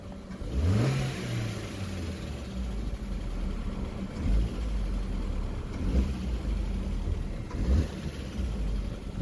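A Vauxhall Astra H 1.4 with its stock exhaust revs up from idle, the engine note climbing sharply near the start, then blipping again in repeated pulses at close range with no talking.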